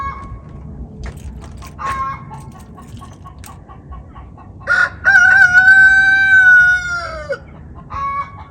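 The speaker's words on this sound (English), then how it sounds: "That's the chicken egg song." A hen sings her egg song in a backyard flock: scattered clucks, then one long, loud, drawn-out call in the middle, followed by a few short calls.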